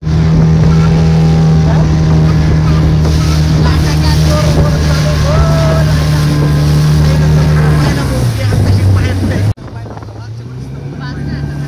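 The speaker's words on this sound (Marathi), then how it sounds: "चला मित्रांनो, आता बोटिंग करूया।" Motorboat ride at Alibag Beach: a loud, steady engine drone with wind buffeting the microphone throughout, the pitch dropping near the end as the boat slows, with people talking over it.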